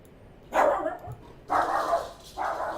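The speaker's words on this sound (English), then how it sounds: "And dog's going nuts." A dog barks three times during a DCS A-10C II flight-simulator session, each bark sustained and spaced about a second apart, loud and close over a low steady background hum.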